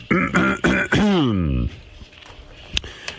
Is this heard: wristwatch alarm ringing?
no